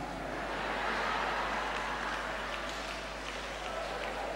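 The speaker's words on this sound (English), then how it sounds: "Why are you clapping?" An audience at a retreat claps in a soft, dense patter that holds steady for several seconds, heard from a distance and fairly faint, with no talking over it.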